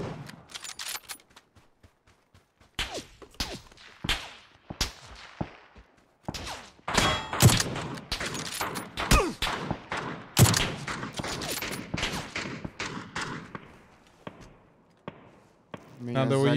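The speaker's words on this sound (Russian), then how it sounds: "На карте 16 лайф со всех сторон стреляют" Gunfire from all directions in a night match on the Vikendi map in PUBG, with scattered single shots and rapid bursts, some near and loud and others distant, mixed with people talking throughout.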